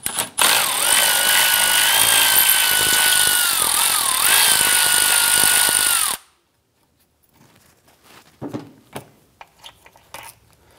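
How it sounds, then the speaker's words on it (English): A power tool turns a 10 mm socket to remove a bolt on a 2004-2008 Acura TL during front downstream O2 sensor work. A loud, steady whine runs about six seconds and stops abruptly, followed by faint scattered clicks and handling noises. "Go ahead and use a 10 millimeter socket and remove this bolt."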